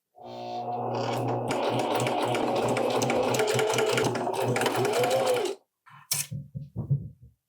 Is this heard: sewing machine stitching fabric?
yes